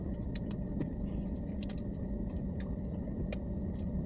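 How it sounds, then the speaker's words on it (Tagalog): Road traffic on a drive in Pampanga, a steady rumbling hum of car engines and tires from inside a vehicle, with a few small rattles and clicks over the constant drone and no talking. "Ayan, traffic na po tayo."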